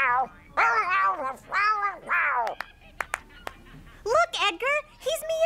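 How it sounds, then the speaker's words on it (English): A cartoon cat meows repeatedly, loud and close, in a series of rising and falling calls with brief pauses and a few clicks between them. "Look, Edgar, he's meowing."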